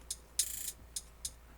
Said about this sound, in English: weird hi-hat